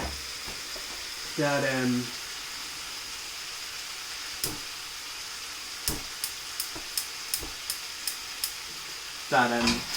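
Pancetta sizzles in a frying pan for spaghetti carbonara, a steady close hiss broken by sharp utensil clicks and scrapes, with brief louder bursts of stirring near the start and end.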